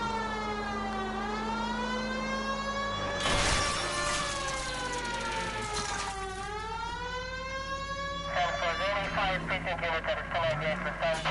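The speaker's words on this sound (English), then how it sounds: "let's put the fucking siren on them" A wailing police car siren in the video game L.A. Noire rises and falls in long sweeping cycles, loud and continuous, with engine and traffic noise underneath and a brief burst of harsher noise partway through.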